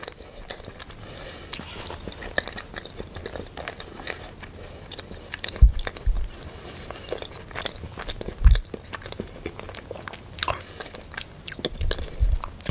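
Durian crepe bitten and chewed close to the mic, with soft creamy squishing and occasional sharper crunchy bites repeating over several seconds, no speech.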